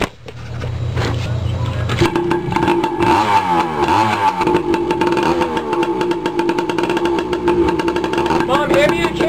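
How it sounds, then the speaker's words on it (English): A dirt bike engine revs loudly and up close, climbing and falling in pitch as the rider heads down a driveway toward a ditch, with a steady motor drone throughout. "I'm gonna ride the dirt bike down to the scary driveway ditch."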